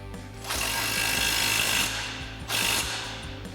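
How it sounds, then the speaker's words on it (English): Impact wrench with an 18mm socket tightening a bottom suspension bolt on a Jeep Wrangler JK, two loud close rattling bursts, the first longer and the second short. "Now we can go ahead and tighten our bottom bolt down using our 18mm socket on our impact and our 18mm wrench."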